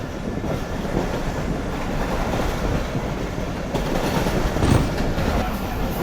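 The Karakoram Express rumbles steadily on the rails after leaving Kotri, heard from inside as a loud continuous roar with faint clickety-clack and a slight swell near the end.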